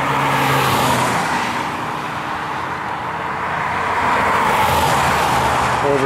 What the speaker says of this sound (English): This is Route 7 that a hiker needs to cross hiking northbound and or southbound.